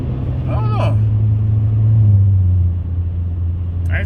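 A car fitted with a Borla ATAK muffler-delete exhaust rumbles with a deep, loud drone that swells midway and then eases, with brief voices in the background.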